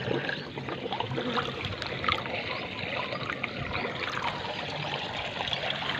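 Water runs steadily from a valve opened wider at a home water supply, a continuous close rushing and trickling flow that holds level for several seconds without speech.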